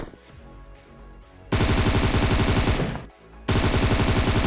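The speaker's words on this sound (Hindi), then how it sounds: "अब एक बंदा यार फायरिंग कर रहा है टावर के ऊपर से भी" Automatic gunfire in PUBG Mobile, with a player shooting from atop a tower in Pochinki: two loud, sustained bursts of rapid shots, the first running about two seconds and the second starting after a short lull.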